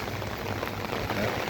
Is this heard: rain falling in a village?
yes